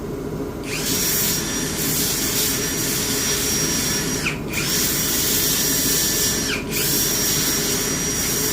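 A power tool grinds burrs off a Monte Carlo car fender with a loud, steady, close-up whine that runs continuously, dipping briefly twice before picking back up.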